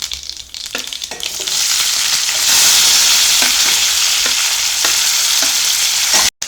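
Finely chopped onions hit a pan on medium flame for bread upma, and a loud, close sizzle swells and holds steady, broken by a few light stirring knocks, with no talking.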